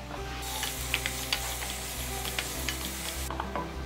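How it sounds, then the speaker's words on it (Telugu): Onions and green chilies fry in hot oil for a goat trotters curry, producing a continuous crackling sizzle with light stirring taps, fairly quiet and close. "అవి కూడా నూనెలో వేసేస్తున్నాను కొంత డార్క్ రంగు వచ్చేలాగా బాగా వేపుకోవాలన్నమాట"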